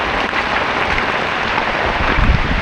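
Heavy rain and rushing runoff water pour down steadily, a dense, loud broadband wash with no talk.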